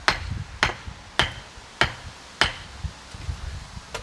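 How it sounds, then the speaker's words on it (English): A hammer strikes a timber post in sharp, evenly spaced knocks, about six loud blows followed by a few lighter taps, close by. "Let it down with the hammer"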